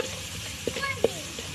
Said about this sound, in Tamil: உப்பு, வெள்ளைப்பூடு, இஞ்சி, 2 பச்சை வெங்காயம், 2 கிராம்பு, பிரியாணி இலை இதெல்லாம் போட்டு வதக்குறோம்